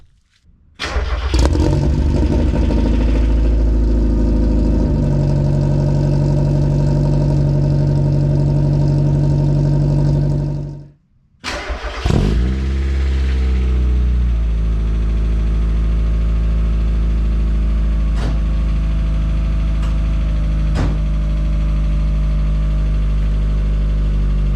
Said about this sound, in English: So I'm gonna get you guys a cold start, and we can hear the difference between the previous exhaust and this one.